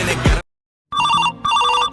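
A telephone bell rings in two loud, sustained bursts with a short gap between them, following a brief moment of other sound.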